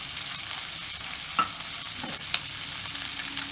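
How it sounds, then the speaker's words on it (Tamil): Onion, capsicum and carrot fry in a pan, a dense, continuous sizzle with occasional stirring scrapes and taps of a spatula, close and steady, with no talk. "ஆனியனை நல்லா ஃப்ரை பண்ணிக்கலாம்."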